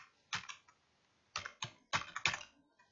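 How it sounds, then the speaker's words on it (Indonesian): Keys clatter on a computer keyboard as a birth date is typed into a data-entry userform, coming in several quick close bursts of keystrokes separated by quiet pauses. "setelah itu teman-teman kita ketikkan tanggal lahirnya"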